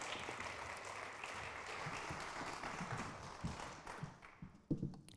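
Forum audience clapping for the speakers, a quiet, somewhat distant patter of many hands that thins out toward the end, with a few louder knocks and shuffles near the close.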